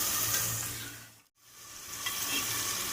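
Mutton pieces sizzle and fry in cooked masala in a pot, a loud, steady crackling hiss that breaks for a brief moment midway, then resumes with stirring.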